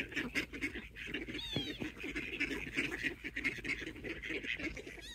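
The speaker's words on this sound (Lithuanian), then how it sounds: "Girdi kaip kaksi ančiukai. Sako kvak, kvak, kvak, kvak," Ducklings quacking outdoors by the water, a lively run of quiet, overlapping calls in a steady rapid rhythm, faint and close, with no talk over them.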